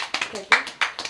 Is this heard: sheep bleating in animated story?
no